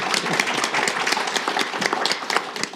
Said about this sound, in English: Please let's clap for him as well.